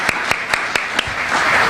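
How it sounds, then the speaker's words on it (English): Regular single claps ring out at a conference panel, about five evenly spaced sharp hits close by over a low murmur, fading into a louder room wash at the end. "Could we give them a bigger round of applause?"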